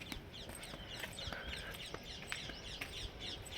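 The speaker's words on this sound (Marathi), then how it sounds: "पक्ष्यांचा आवाज येतो" Birds call and chirp outdoors in a garden early in the morning as the sun rises, short scattered tweets over steady background noise, fairly faint and without talk.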